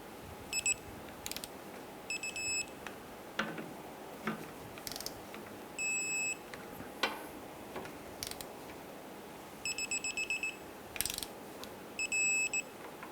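A torque wrench tightens the gearbox bolts on a 1997-2006 Jeep Wrangler. Quiet ratcheting clicks are heard up close, along with several short repeated electronic beeps in clusters.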